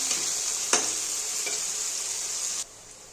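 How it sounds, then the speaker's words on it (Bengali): Onion and green chillies fry in hot oil in a pan for Bengali chicken kosha, a steady close sizzle with a couple of stirring knocks before it suddenly drops away. "এবার দেবো কাঁচা লঙ্কাটা, এটা একটু ভেজে তারপরে মশলাটা দিয়ে দেবো।"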